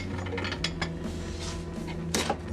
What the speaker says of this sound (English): That's going to take a 7/8 wrench.